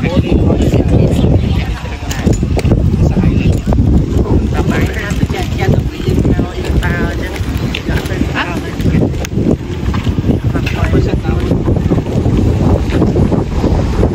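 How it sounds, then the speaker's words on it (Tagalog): Strong wind roars across the microphone, steady and buffeting throughout, with engine and water noise beneath and people talking faintly in the mix, near Ngong Ping, Hong Kong. "Sarap ng hangin."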